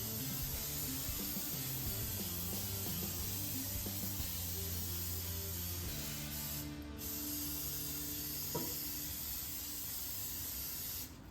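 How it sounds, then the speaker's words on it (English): Butter-flavored non-stick cooking spray hisses from an aerosol can onto crappie fillets in one long, close, continuous spray, broken by a brief pause near the end. "want to make sure to hit it with that non-stick spray to crisp it up"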